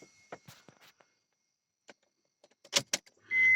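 Ignition switched on in a 2002 Honda Accord 2.4 with a charging fault: a few soft clicks and taps inside the car, then a sudden steady electrical hum and chime rising at the end, with no talk.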